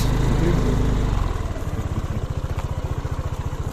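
A motorcycle engine runs during a ride with a passenger aboard. It starts as a steady close rumble, then settles into a slower, evenly pulsing beat.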